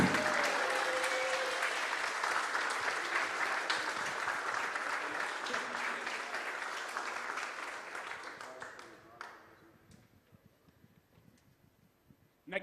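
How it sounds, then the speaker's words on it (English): A crowd at a robot combat event claps for the winners, with steady applause and some murmuring for around nine seconds before it dies away into quiet room noise. "Big round of applause to everyone involved"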